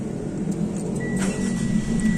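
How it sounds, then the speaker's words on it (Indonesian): Engine of a Mitsubishi Pajero Sport Dakar 4x2 Prestige SUV running just after starting, a close, steady low idle rumble with a faint high whine, no talking. "suara mesinnya kayak gini"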